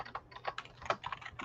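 Soft keystrokes on a computer keyboard, an uneven patter of about a dozen quiet clicks, close to the microphone and with no talking.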